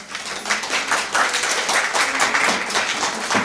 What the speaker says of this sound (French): Vous pouvez saluer nos collègues de master d'interprétariat, Yelena, Jelka.